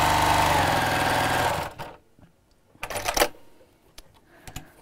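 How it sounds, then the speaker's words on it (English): A sewing machine runs in one fast, steady burst while stitching down the side of a tote bag, then stops, leaving a few short clicks and rustles of fabric. "So I'm just going to sew down each side."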